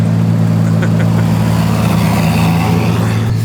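Nissan Silvia S15 with a swapped RB26 GTR engine, around 600 horsepower and rear-wheel drive, drones steadily on the road with a strong low engine hum, heard from inside the car at constant loud level.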